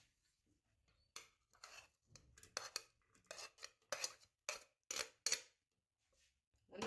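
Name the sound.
butter and onion added to a cooking pot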